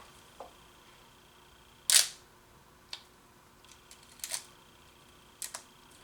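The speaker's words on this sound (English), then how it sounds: "That's a real high quality shutter." A single crisp shutter click from a Minolta XE film camera with a Copal shutter stands out in a quiet room, followed by a few faint mechanical clicks and handling taps.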